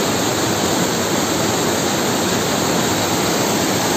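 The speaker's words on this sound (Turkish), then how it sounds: "Aşağıya doğru yine bu şekilde şarıl şarıl bembeyaz köpüklü, hiç kirlenmemiş harika bir su" The Ciro waterfall in Yusufeli, Artvin, Turkey, sends foaming white water rushing down into a valley, making a steady, loud, unbroken roar with no voices.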